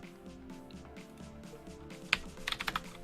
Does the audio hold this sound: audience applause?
no